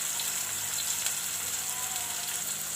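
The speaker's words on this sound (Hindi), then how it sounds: "अब इसको डाल के इसको भी आपने 2 मिनट के लिए फ्राई करना है" Steady, dense sizzling of an eggplant bharta mixture with onion and tomato frying in a pan, continuous and close with no talking over it.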